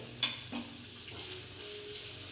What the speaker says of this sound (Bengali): কড়াইয়ের তেলের মধ্যে আমি পেঁয়াজ দিয়ে দেবো